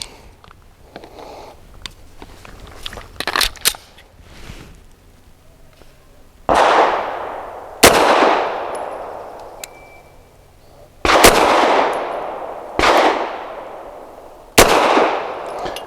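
Loud pistol shots from an Arsenal Strike One firing Winchester Defender 147 grain ammunition at an outdoor range, six sharp reports spaced about a second or more apart, each trailing a long reverberant decay after some quieter handling noises.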